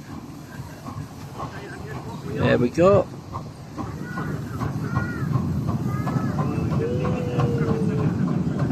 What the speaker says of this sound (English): So that's the steam train, and it's just on its way out now.